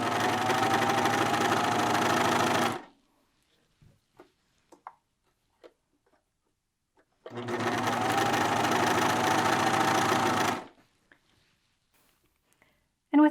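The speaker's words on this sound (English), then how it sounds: "And with the serger, you don't need to reach around the back and always lift up the presser foot." A serger sewing machine runs in two loud, steady bursts of about three seconds each, stitching and neatening seam allowances while assembling a sewn body, with a quiet pause of small clicks and handling between them.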